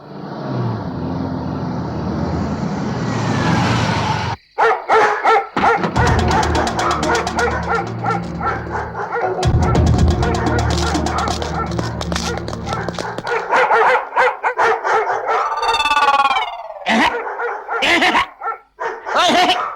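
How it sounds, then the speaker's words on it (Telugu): Dogs bark and yip in rapid, repeated bursts, loud and close, mixed with other noise and what sounds like voices and a passing vehicle. "పాడు కుక్కల్లారా ఈ అరుపులతో నా చెవులు చిల్లులు పడిపోతున్నాయి"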